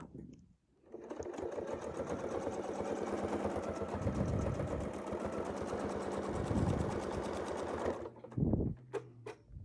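A sewing machine stitches a continuous quilting motif in a fast, steady mechanical whir that runs for several seconds and then stops, followed by a few soft handling clicks and thumps.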